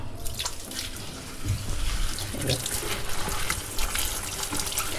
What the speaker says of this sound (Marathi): पहिल्यांदा स्वच्छ ही मुळं धुवून घ्यायची